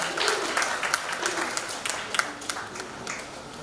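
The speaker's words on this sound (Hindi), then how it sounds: "आप अपने लिए भी ताली बजा सकते हैं और अपने पेरेंट्स के लिए भी ताली बजा सकते हैं" Scattered applause from an audience at a career counseling program in Bhopal, moderately loud and steady, with individual claps standing out as it continues without a clear end.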